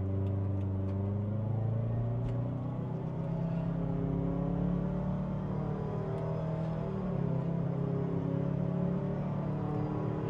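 A 2024 Subaru Crosstrek accelerating in Sport mode, a steady engine drone whose pitch climbs smoothly through rising and falling gear sweeps, heard from inside the cabin with no talking.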